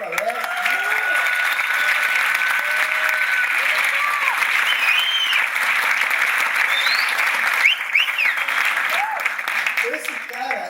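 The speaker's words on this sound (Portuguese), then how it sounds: "Uma salva de palmas para o Alex." Sustained applause from a talk audience welcoming a guest, dense and steady clapping filling the room at close range with some scattered whistles and cheers throughout.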